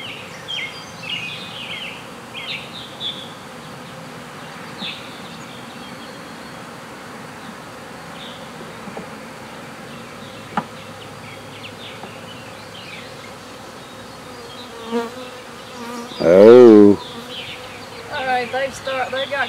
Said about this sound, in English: with the bees going everywhere